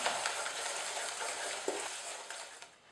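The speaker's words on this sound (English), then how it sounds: "Then the next ingredient to add is the egg. I'm just going to make sure that's been beaten in as well." An egg beaten into creamed butter and sugar in a bowl for gluten-free peanut butter cookies, a steady close wet scraping and stirring with a few soft knocks of the utensil, and no talk.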